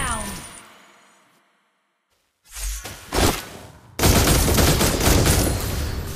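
Granger, a gun-wielding hero in the mobile MOBA Mobile Legends, fires a quick volley of sharp shots, then a loud sustained burst of rapid gunfire, after a brief silent gap.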